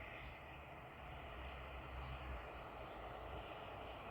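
A helicopter flies overhead in cold, below-zero weather, its engine a steady, fairly distant rumbling drone that stays even and continuous throughout, with no talk.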